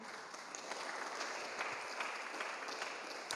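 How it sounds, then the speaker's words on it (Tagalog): Steady, dense applause from a church congregation during a sermon, filling the room evenly from start to finish without any voices over it. "Palakpak."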